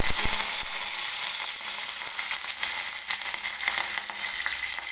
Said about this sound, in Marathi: लसूण हलकासा गोल्डन होईपर्यंत भाजून घ्यायचा आहे.